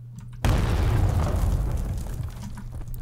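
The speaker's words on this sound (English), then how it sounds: "I heard an explosion." A single loud boom bursts out in a video game and trails into a long, rumbling roar that slowly fades, with no talking over it.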